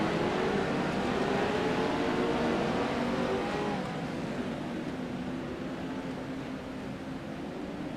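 Dirt track race cars circle the Charlotte dirt oval as the pace car pulls off, a steady wall of engine roar and broadband noise holding at a constant loud level throughout.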